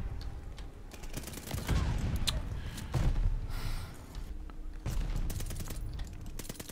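Gunfire in Call of Duty: Vanguard, rapid automatic bursts and scattered single shots crackling over several seconds amid a busy, noisy firefight.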